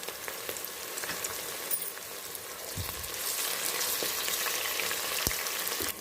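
Curry leaves, green chilies, cinnamon and cloves fry in hot oil with a dense, close sizzle that grows louder partway through, sharp pops and crackles breaking through it.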